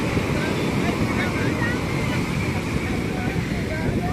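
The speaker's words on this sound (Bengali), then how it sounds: "আবার একখানা বড় ঢেউ এলো" Loud, continuous roar of surf at Puri Beach with wind buffeting the microphone, waves washing in steadily at close range.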